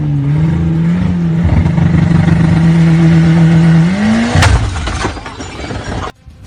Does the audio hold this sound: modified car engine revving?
yes